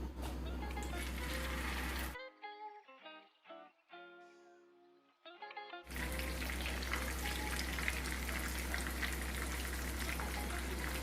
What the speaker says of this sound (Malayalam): മീൻ വറുത്തെടുക്കാനായി ഞാൻ പാനിൽ വെളിച്ചെണ്ണ ഒഴിച്ച് കൊടുത്തിട്ടുണ്ട്